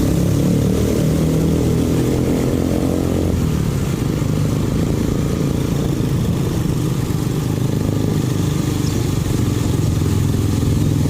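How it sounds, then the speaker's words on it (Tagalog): A motorcycle engine runs close by, a loud, steady mid-pitched drone with a slight shift in tone partway through, continuous for the whole stretch with no talking. "Alright, so ito yung motor."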